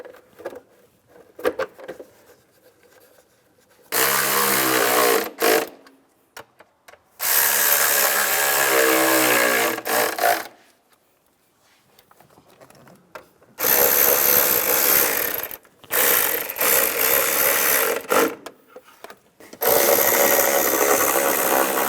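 A power tool drives bolts into the intake cover of a 2004–2010 BMW X3 during an intake manifold gasket replacement, in several loud whirring bursts of a few seconds each, separated by quiet gaps, with no talking.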